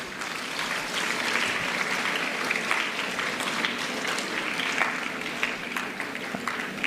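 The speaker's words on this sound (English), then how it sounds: "let us thank them with a big round of applause." An audience of students at a school Founder's Day event claps in a sustained, even round of applause, dense and fairly close, with no pause.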